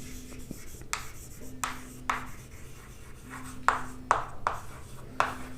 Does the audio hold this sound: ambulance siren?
no